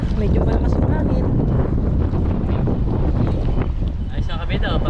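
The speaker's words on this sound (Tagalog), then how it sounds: "Medyo malakas yung hangin." Strong wind roars and buffets the microphone in a constant loud rush at the coast during high tide, with faint voices partly buried beneath it.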